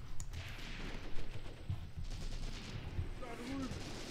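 Gunfire in the World War II tactics game Graviteam Tactics: Mius Front, a steady rumble of distant battle with scattered shots and bursts and faint background noise throughout.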